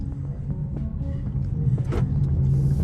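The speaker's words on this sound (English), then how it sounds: "Let's go ahead and give it a gas here in just a minute and take this puppy across the road here" An American gas-engine sedan drives along a road, its engine giving a steady low rumble that swells slightly as it picks up speed, with faint cabin noise and no talking.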